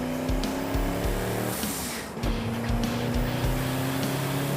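A turbocharged Datsun race car at Laguna Seca Raceway, its engine droning loud and steady close by with a brief dip in the note midway, the motor holding a strained, buzzing tone throughout.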